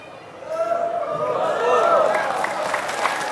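Audience applause breaks out during a mosque sermon by a preacher: a steady spread of clapping and crowd noise lasting several seconds, heard together with a voice talking over it.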